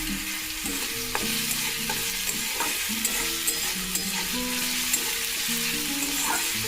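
Chopped onion, tomato and green chilli fry in a pan over medium flame with a steady crackling sizzle, punctuated by repeated scraping and clinking of a spatula stirring close by.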